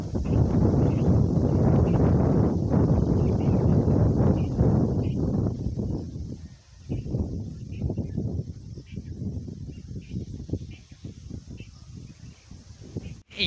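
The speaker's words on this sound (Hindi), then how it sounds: "सूरज डूबने को है और हवा चल रही है ठंडी ठंडी" Cool evening wind blowing at sunset outdoors, a steady loud rush buffeting the microphone with rustling gusts that ease partway through, low broadband roar throughout.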